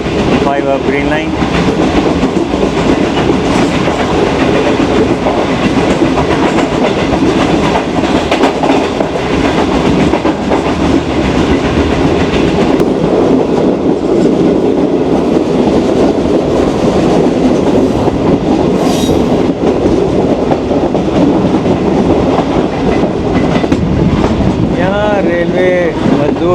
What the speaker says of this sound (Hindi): स्लो स्पीड में आज ट्रेन यहाँ से गुजर रही है